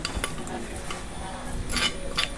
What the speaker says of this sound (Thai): เราก็จะเตรียมเอาเครื่องลงไปผสมในหม้อ รวมกันทีเดียวนะครับ